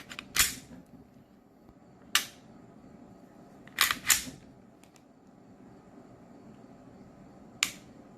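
Trigger reset on a striker-fired Sig M18X pistol with a flat-blade X trigger: several sharp, loud metallic clicks heard close up, some single and one quick double, spaced irregularly over a quiet background.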